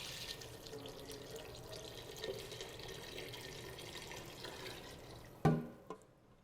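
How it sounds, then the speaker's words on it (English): Broth pours steadily into a pot with a soft, faint splashing, ending in a couple of light clunks. "And we're just gonna pour some."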